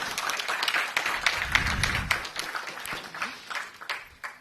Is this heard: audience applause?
yes